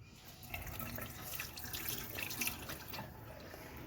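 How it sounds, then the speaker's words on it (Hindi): Tap water runs steadily over poppy seeds (khas-khas) being washed free of soil in a sieve: a close, continuous hiss and splash with small shifting trickles throughout. "अभी मैं ये छलनी में छान रही हूँ, ये देखिए।"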